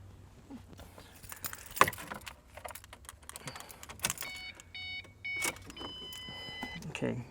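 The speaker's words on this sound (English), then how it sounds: "We're gonna turn the key on." A key jangles and turns in a Ford Mustang ignition, with the jingle of the keys and a click, then a string of electronic chimes and dash beeps, close by and mixed with talk.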